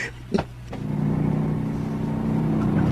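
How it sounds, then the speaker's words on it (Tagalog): After a couple of short knocks, a nearby motorcycle engine starts up and idles with a steady low hum and rising rumble. "Oh, may motor nga."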